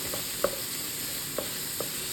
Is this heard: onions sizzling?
yes